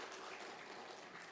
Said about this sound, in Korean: 이럴 때는 박수도 한번 쳐야 되는데